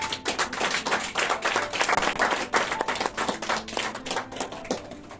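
A church congregation claps together in sustained, lively applause for the Lord, many hands pattering quickly and loudly throughout with faint voices mixed in.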